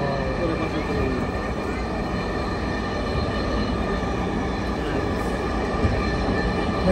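Dhaka metro rail train running between stations, a steady low rumble and whirr of wheels and motors heard from inside the car, with a faint voice under the drone.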